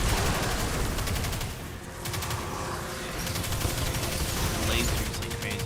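SMG fire in the video game Destiny 2 comes as rapid, continuous bursts. One brief pause breaks the fire before it resumes, with some faint in-game effects underneath.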